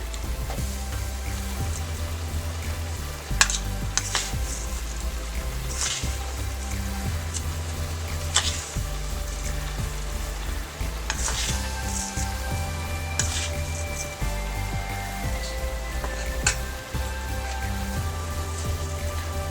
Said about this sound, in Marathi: एकदा मिक्स करून घेऊया। साखर घालूया यात।